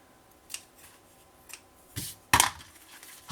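Scissors snip ribbon for a scrapbooking pop-up album: a handful of crisp, close cuts spaced apart, the last one the sharpest and loudest, with no talking.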